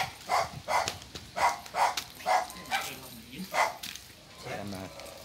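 A dog barks about ten times in a steady run of sharp, fairly close woofs, then trails off into softer whines, with people talking faintly in the background.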